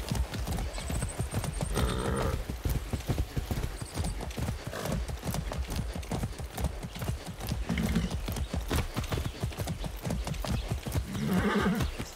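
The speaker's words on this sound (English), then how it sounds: "That's a good horse." Rapid, rhythmic clip-clop of hooves at a steady gallop throughout in the video game Far Cry 6, with brief whinnies and snorts from the horse rising above the hoofbeats.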